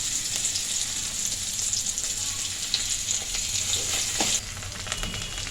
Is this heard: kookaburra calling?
no